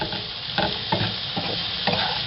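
Onions fry in a pan while being stirred, a steady close sizzle broken by several distinct scraping strokes of the utensil at irregular intervals, with no one talking.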